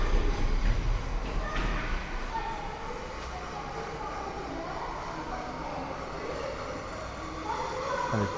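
A narrow gauge Bagnall steam locomotive rolls past hauling a carriage, a steady continuous rumble of wheels and running gear at moderate distance that swells slightly at the start and end.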